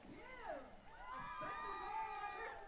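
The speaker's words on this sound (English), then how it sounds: "you can hear the fans really clapping and hollering it up" Fans at a women's lacrosse game cheering and hollering after a goal, with whoops and shouts rising over a steady crowd din, fairly distant and continuous throughout.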